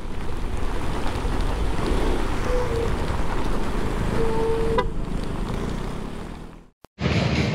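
Steady, loud wash of heavy rain with a dense hiss, a faint tone rising briefly partway, then a sudden drop to near silence before resuming.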